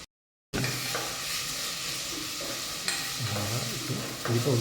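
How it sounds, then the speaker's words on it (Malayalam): Sliced onions and mustard seeds sautéing in a pan for a home-made chicken curry: a steady close sizzle with soft crackles and stirring scrapes, no voices. "സവാളയും കടുകും ഉപയോഗിച്ച് സവാള വഴറ്റുകയാണ്."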